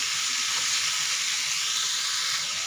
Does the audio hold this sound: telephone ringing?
no